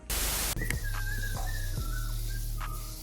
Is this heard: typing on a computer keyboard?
no